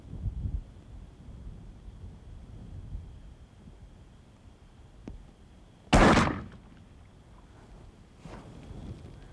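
A single sharp muzzleloader rifle shot cracks out at an outdoor target range, loud and abrupt over wind noise, followed by a faint echoing tail.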